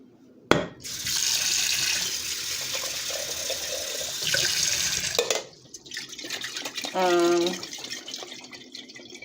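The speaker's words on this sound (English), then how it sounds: "Just gonna rinse this out." Running tap water pours into a kitchen sink as something is rinsed out. The flow starts suddenly, stays steady for several seconds and then breaks off, leaving clinks and a short gurgle.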